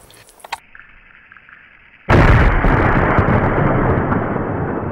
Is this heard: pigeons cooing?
no